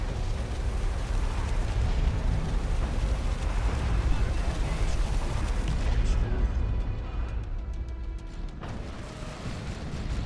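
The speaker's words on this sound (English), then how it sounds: "Oh my god, it's another orbital bombardment" Rumbling orbital bombardment explosions in Dawn of War II: Retribution during a 3v3 match, a dense, loud roar of overlapping blasts that thins out near the end, with a commentator talking over it.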